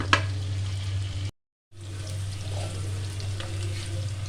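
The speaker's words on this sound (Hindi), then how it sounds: "हम इनको हल्का सा फ्राई कर लेंगे।" Two medium onions fry lightly in a pan for a curry, giving a steady close sizzle with occasional stirring scrapes, broken by a brief silent gap before the frying resumes.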